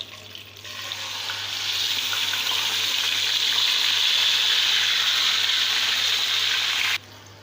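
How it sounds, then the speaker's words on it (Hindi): Marinated chicken for tandoori chicken masala frying in hot oil, a steady, loud hiss that holds continuously for about seven seconds and then cuts off abruptly, with no talking. "तो देखिए यहाँ पे हमारा तेल गरम हो चुका है। अब हम इसमें मैरिनेट किया हुआ चिकन वो शामिल कर देंगे।"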